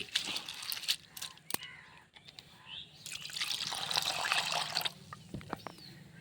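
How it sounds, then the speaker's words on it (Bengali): Flattened rice (chira) is washed by hand in water before making egg rolls, with close, intermittent splashing, sloshing and trickling that swells in the middle, then tapers off into scattered drips. "চিড়েটা ভালোভাবে পরিষ্কার করে ধুয়ে নিতে হবে।"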